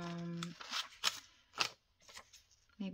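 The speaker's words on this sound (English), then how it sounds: "I'm just going to cut it just a little bit" Scissors snip through material in a few separate crisp cuts with pauses in between, close and quiet, with a voice humming or speaking briefly at the start and end.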